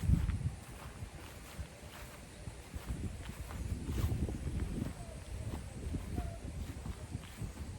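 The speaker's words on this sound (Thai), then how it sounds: "ข้างนอกนี้ลมพัดแรงมาก ๆ เลย" Strong, dry wind blowing outdoors in rural Isan, Thailand, buffeting the microphone in low gusty rumbles throughout, with a gust at the start and faint background sounds.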